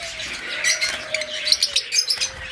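Pet budgerigars, forpus parrots and lovebirds chirping close by, a quick run of bright, overlapping tweets and chatter over a faint steady background tone.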